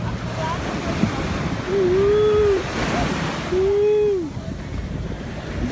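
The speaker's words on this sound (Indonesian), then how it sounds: "ombaknya kenceng banget" Strong surf roars and rushes continuously at a beach, with gusty wind noise on the microphone and a couple of short voice-like calls over it.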